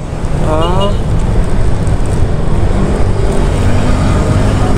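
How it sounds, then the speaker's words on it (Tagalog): Continuous car traffic rumbles inside a mall parking area at SM Molino, loud and close, with a brief rising whistle-like tone early on over the steady engine and road noise. "Grabe yung traffic din sa loob."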